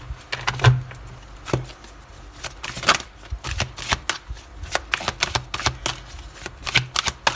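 A deck of tarot cards is shuffled close by, a dense run of crisp riffling snaps and soft flutters, with one louder thump near the start.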